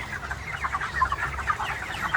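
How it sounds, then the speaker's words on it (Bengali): Chickens on a poultry farm cluck in a busy overlapping chorus, several birds close by with a steady low hum beneath them. "তো মুরগিগুলো বেশ ভালো আছে আমার ফার্মে"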